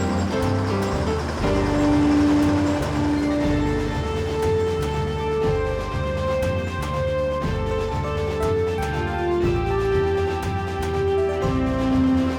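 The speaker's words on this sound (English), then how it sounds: "The steep descent does not allow the train to accelerate to full speed." Serra Verde Railroad train crawling down a steep mountain descent in Brazil, a steady low rumble with a few sustained tonal whines and squeals drifting in pitch, under background music.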